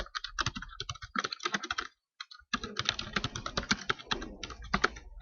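Fast, crisp keystrokes on a computer keyboard as an email address is typed, coming in quick bursts with one brief pause in the middle, close and clear with no talking.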